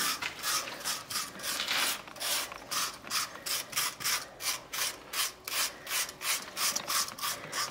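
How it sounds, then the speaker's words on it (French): A mason rubbing excess mortar off stones in a wall, making a steady run of rhythmic scraping strokes, roughly two per second, close and fairly loud with no voices. "Il frotte le surplus sur les pierres pour pas que ça colle et pour que ça fasse joli."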